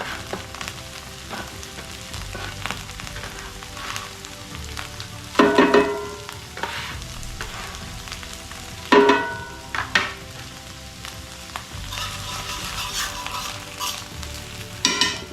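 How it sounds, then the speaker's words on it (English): Half a medium onion frying in a pan alongside browned steak for beef stroganoff, a steady close sizzle with clattering stirs and a few louder bursts of spatula scraping. "Let's go ahead and add our half of a medium onion in there and get it going."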